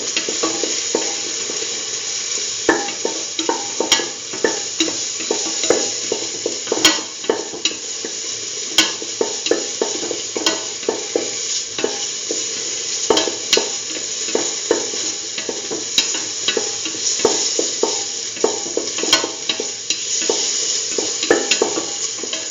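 Curried beetroot sautéed and stirred in a pan: a steady, close sizzle runs throughout, punctuated by regular scraping strokes of the spoon, with no voices.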